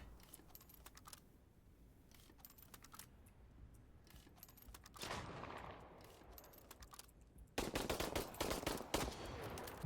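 Bursts of rapid video game gunfire crackle in sharp volleys, growing louder toward the end, with scattered clicks between the shots.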